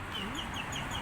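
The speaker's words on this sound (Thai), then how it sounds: "เสียงนกร้องอยู่ไหนนะ" A short burst of repeated high chirping bird calls over a busy background with clucking, close and fairly loud.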